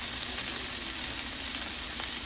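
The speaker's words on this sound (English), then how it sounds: "So we're going to go ahead and throw in our deluxe stir fry veggies." Deluxe stir fry vegetables sizzle and crackle in a hot pan. The frying hiss is loud and steady, up close and continuous, with no talking over it.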